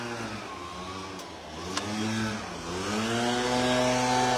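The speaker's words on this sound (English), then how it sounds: "move slightly further away from the leaf blower" Leaf blower running on a farm with lambs, a loud, sustained droning engine whine that dips and rises in pitch, close by and alone.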